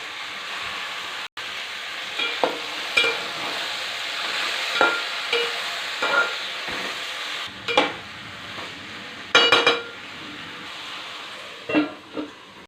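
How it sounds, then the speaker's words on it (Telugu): Brinjal pieces frying with chana dal and curry leaves in a pan, a steady close sizzle broken by scattered stirring scrapes and a few louder clatters. "ఇప్పుడు వంకాయ ముక్కలు వేసుకున్నాం"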